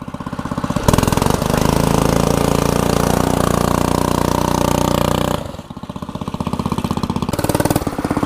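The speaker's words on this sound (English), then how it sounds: "Do a burnout." Dirt bike with an FMF Super Power Core 6.9 Factory Edition exhaust doing a burnout in a muddy yard: loud, raw engine revving held for several seconds, then dropping to a choppy idle before revving again.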